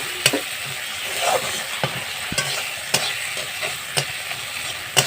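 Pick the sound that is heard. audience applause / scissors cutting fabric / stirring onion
stirring onion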